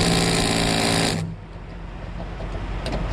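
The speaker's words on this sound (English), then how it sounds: "This thing with this impact attachment does most of the stuff I need it to do." An impact driver with an impact attachment works against a stubborn nut, giving a loud continuous rapid hammering rattle for about a second before stopping, followed by quiet background noise.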